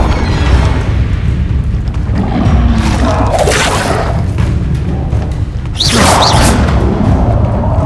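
The Incendio fire spell in Hogwarts Legacy, loud booming whooshes of flame erupting in two main bursts amid ongoing low rumble.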